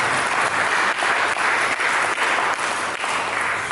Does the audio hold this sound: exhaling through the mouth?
no